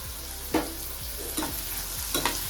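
Cumin seeds sizzle in hot oil as a tempering for khara pongal: a steady, close frying hiss broken by three soft clinks of a stirring spoon.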